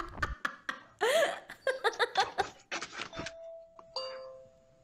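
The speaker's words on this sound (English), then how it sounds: "Doggo ring doorbell?" A dog presses a doorbell, setting off a sustained electronic chime that rings for over a second, following a burst of giggling and chuckling laughter.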